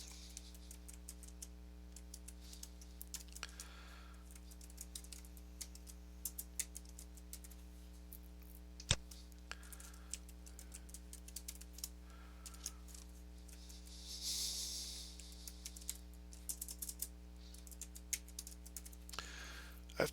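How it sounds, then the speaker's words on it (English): Keystrokes on a computer keyboard entering an email address into an online new-member sign-up form, a steady run of light clicks with short pauses, quiet and close over a constant low electrical hum. "Now I'm going to enter my email."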